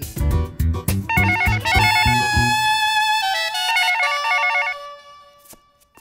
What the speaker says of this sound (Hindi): Shagun, मुझे यहां तक आवाज आ रही है, तुम फोन क्यों नहीं उठा रही हो?